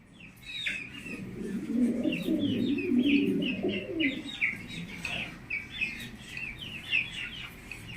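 Pigeons at a breeding farm coo in a low, rolling chorus while sharper chirps and tweets repeat steadily above, close and continuous throughout.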